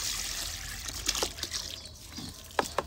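Water trickles and dribbles from a bunch of self-sealing Holi water balloons onto trees, a steady soft splashing with a few brighter drip-like spurts near the end, close by and without voices.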